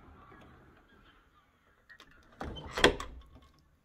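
A door swings shut against clean rubber weatherstrip seals, giving one soft, close thud with a brief rustle just before it, heard alone with no talk.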